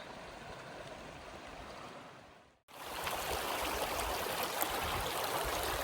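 Cochetopa Creek in the Colorado mountains rushes steadily close by as someone wades across, a continuous broadband water wash that drops out briefly and returns louder.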